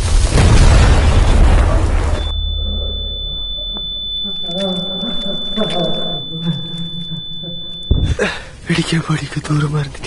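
A loud, broad blast opens the clip, then drops away to a steady high electronic tone with quieter sounds underneath, followed by another burst of noise.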